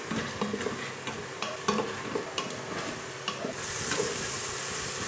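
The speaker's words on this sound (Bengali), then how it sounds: "এবার একটু কষে নেবো ভালো করে।" Ground spices (black pepper, Kashmiri red chilli, hot chilli and coriander powder) stir-fried in a pan for dhaba-style chicken curry, with steady sizzling under repeated scraping strokes of a spatula, close and continuous with no talk.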